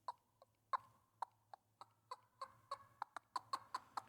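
A handheld turkey call imitating a live hen with extremely soft calling, a series of about fifteen short, evenly spaced yelps and clucks, quiet and close, over a faint low hum.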